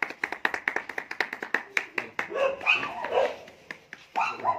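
People clap at a village gathering where members of other parties are joining, a run of sharp, evenly spaced claps followed by looser noise with dog-like yelps.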